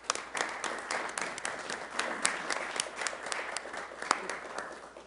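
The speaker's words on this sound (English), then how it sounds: "A round of applause, please." A council meeting audience applauds steadily for several seconds, a dense patter of many hands clapping at moderate distance with no voices over it.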